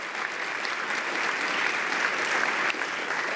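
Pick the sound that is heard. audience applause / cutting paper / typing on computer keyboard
audience applause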